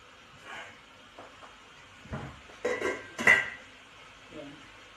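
Lid set over a pot of meat being boiled to remove its odor in a home kitchen, a few clattering metal knocks around the middle, moderately close, with faint background noise and no speech.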